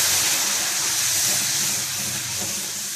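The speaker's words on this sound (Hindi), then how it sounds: "मसाला अच्छे से फ्राई हो रहा है" Masala spices frying in oil for aloo mongray, a loud continuous hiss of sizzling that holds steady for the whole stretch.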